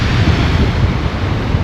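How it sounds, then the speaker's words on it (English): Strong seaside wind roars and buffets the microphone on the coast near a marina, a loud continuous rumble with surf blended underneath, no voices. "That is windy."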